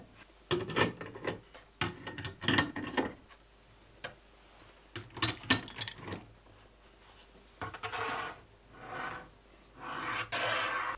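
A rotating storage support in a home workshop is turned, giving bursts of ratcheting, gear-like clicking in irregular groups with short pauses between them.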